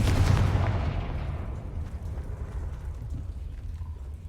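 A Confringo fire spell in Hogwarts Legacy bursts with a loud, deep blast at the start, then a long rumbling decay that fades over several seconds.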